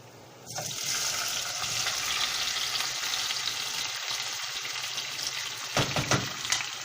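Chopped tomatoes hit frying garlic in a pan for a pizza tomato sauce: a sudden loud sizzle bursts in and settles into a steady, close hiss, with a brief sputtering flare near the end.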